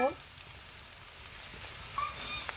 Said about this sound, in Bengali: আমি কি সুন্দর করে লোটটা শুটকিটা ভেজে নিছি